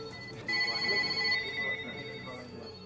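A telephone rings in an ambulance control room, its steady electronic tone starting abruptly and carrying at moderate loudness over a busy background of room noise.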